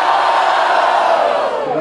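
A rap battle crowd roars for the rapper, a loud, dense wall of cheering and shouting that holds steady throughout, close and unbroken.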